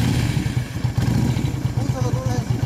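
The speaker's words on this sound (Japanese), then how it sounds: "ごめん、エンジン音聞かせてもらえますか？" A circa-2000 Yamaha DragStar 400 Classic fitted with an aftermarket muffler idles nearby with a loud, lumpy, pulsing exhaust beat, while people talk over it.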